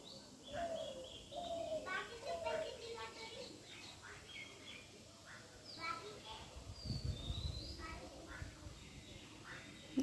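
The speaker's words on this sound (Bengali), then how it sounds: "সাংঘাতিক, সারা দিন সকালবেলা থেকে পাখি ডাকে।" Morning birdsong fills a garden: many faint chirps, whistles and soft dove-like coos overlap at a distance, with a voice talking quietly underneath.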